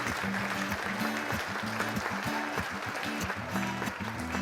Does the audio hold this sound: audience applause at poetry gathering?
yes